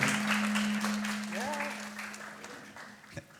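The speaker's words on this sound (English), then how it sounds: "A big warm round of applause for our panelists." An audience at a future-themed forum in Dubai claps for panelists. The applause stays fairly faint, with a steady tone and a brief voice-like sound over it.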